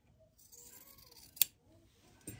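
Scissors snipping quilt block fabric after pressed seams, one quiet sharp cut standing out near the middle, followed by a softer second snip in an otherwise hushed room.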